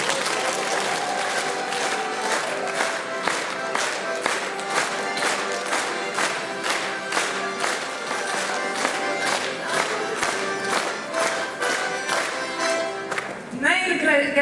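An audience claps in steady rhythm for a folk ensemble from the Ukmergė culture centre, with loud, evenly spaced beats over lively music that continue without a break.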